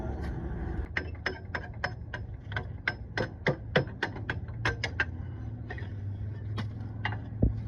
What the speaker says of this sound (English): We use the big hammer.